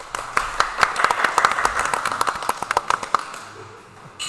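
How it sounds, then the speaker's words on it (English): Sparse hand claps from a small group, a steady scattering of sharp claps for about three seconds before trailing off, close and moderately loud at a darts league night. "as much as we're clapping, he still lost the round"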